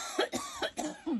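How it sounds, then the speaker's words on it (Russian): A woman coughs in a quick series of four or five harsh, close bursts, each separated by a short pause, loud and clear with no talking over it. "у тебя такой сильный кашель"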